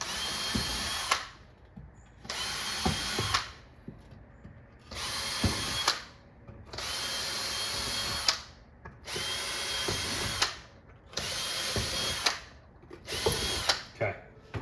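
Power drill boring holes in sheet metal for an arcade cabinet, in repeated bursts of high whining drilling lasting one to two seconds each, separated by short pauses with faint clatter, close and fairly loud.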